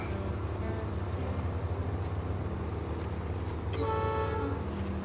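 Truck horn honking in a bridge-building video game, a hoarse strained blare rising near the end over a steady low engine rumble, loud and close with no talking.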